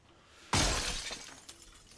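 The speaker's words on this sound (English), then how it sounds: "That smashed the glass as well." Glass smashing in the video game Project Zomboid, one sudden loud shattering crash with a spray of tinkling shards that fades over about a second, followed by a faint falling piece.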